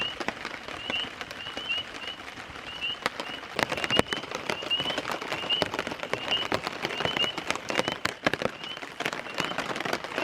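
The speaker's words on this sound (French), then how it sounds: "il a beau pleuvoir sans arrêt" Rain falls steadily on a bivouac camp by the water, a dense continuous patter with frequent sharp drips striking a nearby surface, with no voices.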